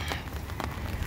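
Rain falling during a walk outdoors, a dense soft patter with scattered crackling drops, faint and steady over a brief moment, without talk.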